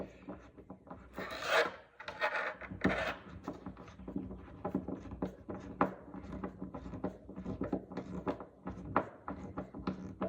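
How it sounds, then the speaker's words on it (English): Near, repeated rasping and grinding of a screw being turned by hand while fitting out a stand-up paddle board, in uneven strokes with short pauses between turns. "I'm just going to screw this in by hand."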